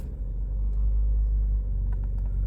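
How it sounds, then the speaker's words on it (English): Inside a 2003–2011 Toyota Corolla with a vacuum leak, a loud, steady low engine drone and road rumble fill the cabin while the car drives, with a few faint clicks. "Bear with me in this noisy car."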